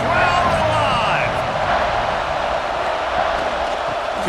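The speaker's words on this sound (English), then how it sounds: "Crowd alive" Steady roar of a stadium crowd in the college football video game CFB 26, Oregon versus Oklahoma State, loud and continuous with a commentator talking over it.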